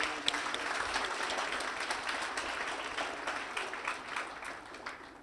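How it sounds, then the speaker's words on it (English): Applause from a crowd at a school graduation ceremony, a steady wash of many hands clapping at moderate distance, fairly soft and tapering slightly toward the end. "A round of applause for my staff."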